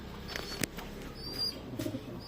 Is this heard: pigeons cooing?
yes